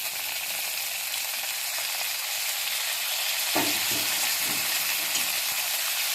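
Boiled potatoes and tomatoes being stirred in a pan over a steady hiss of frying, with soft scraping strokes of a spoon partway through and no talking.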